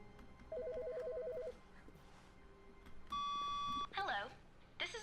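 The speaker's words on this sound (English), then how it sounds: "Can we answer the phone?" A telephone rings in The Stanley Parable video game: loud, repeated electronic trilling bursts, then a sustained tonal ring, with brief game sounds in between and no talking.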